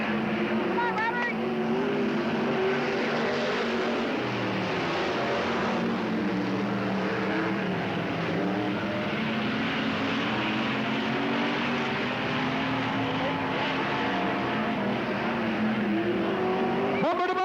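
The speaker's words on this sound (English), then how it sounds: "Bumper to bumper, Robert Hand, David Gould." Stock cars race bumper to bumper around a short oval speedway, a steady loud roar of several engines under continuous announcer commentary throughout.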